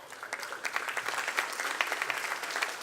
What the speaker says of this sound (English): let's give a big round of applause for Miss Lydia Turner